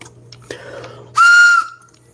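A whistle hole on an escape puzzle is blown once, producing a clear, steady high-pitched tone lasting about half a second, loud and close, preceded by faint handling sounds.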